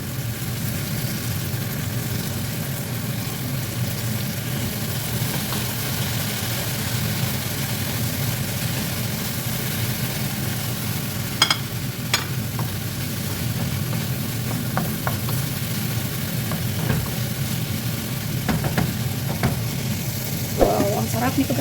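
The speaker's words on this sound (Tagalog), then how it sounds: "Cover and simmer" Food simmers in a covered pan, a steady soft bubbling sizzle that continues evenly, with a few faint clinks and light ticks near the end.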